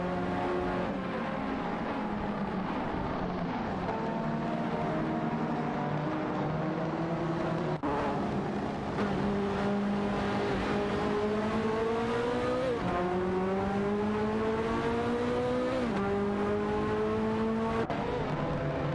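AI-driven race cars in a racing video game, engines whining continuously and shifting pitch as they rev and overtake one another, a steady layered drone with rising sweeps and brief gear-change drops.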